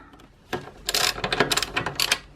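Bolt on the bottom of a Honda Super Cub's rear suspension being loosened with a hand tool, giving a run of close, crisp metallic ratcheting clicks and clanks after a quiet start.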